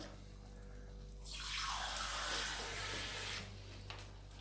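Two glasses of water pour steadily into a pan of beef stroganoff sauce thickened with flour, a loud rushing splash that swells for about two seconds before tapering off.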